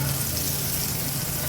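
Mustard seeds and curry leaves crackle and sizzle in hot oil for a tempering, a dense, steady, close spitting hiss with no voices.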